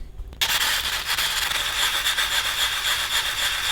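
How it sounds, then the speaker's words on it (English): Fine P400 sandpaper rubbing down damaged flat pack furniture, a continuous close, loud scratchy back-and-forth rasp starting after a brief pause, with no talk. "I'm going to use this pretty fine P400 sandpaper to very gently"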